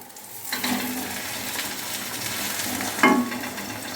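A spring onion and egg omelette frying in white oil in a pan, a steady close sizzle with a couple of louder bursts as it is handled.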